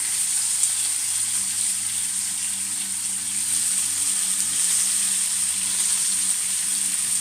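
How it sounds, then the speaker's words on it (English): Tilapia fillets sizzle and fry steadily in a hot pan, a dense continuous crackle held at an even level throughout, close and alone with no talking. "Now we're going to add the tilapia to cook."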